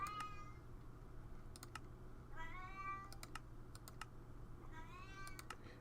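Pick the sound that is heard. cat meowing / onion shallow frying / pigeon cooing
cat meowing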